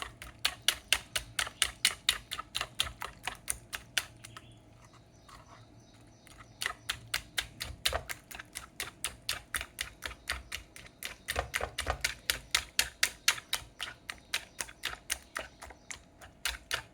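Eggs being beaten hard for an egg attu omelette, a fast, steady run of close rhythmic tapping strokes with one short pause partway through and no talking.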